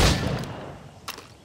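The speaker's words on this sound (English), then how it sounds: "We got our guns. Shoot these targets." Gunfire at practice targets in the Assassin's Creed Rogue video game: a sharp shot at the start decaying away, followed by a fainter second crack a second later.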